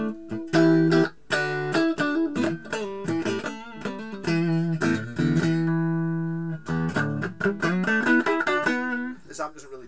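Clean electric guitar through a Softec amp, a Vox VBM1 Brian May Special, played as a run of plucked notes and chords, loud and close, with some ringing sustained passages and no talking.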